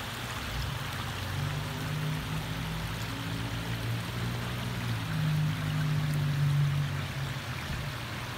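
Water pours continuously over a long spillway from a koi pond filter into a large pond, making a steady, full rushing and splashing sound that swells slightly toward the end, with no voices.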